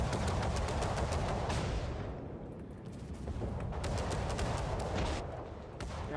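Heavy naval gunfire in World of Warships, dense booming salvos and rumbling explosions layered into a loud, continuous roar with no clear gaps.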